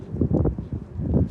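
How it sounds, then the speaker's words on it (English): Gusty wind blows outdoors during a car restoration job on fuel tanks and straps, a low buffeting rumble that rises and falls in uneven surges across the short stretch. "Why is it so windy all of a sudden?"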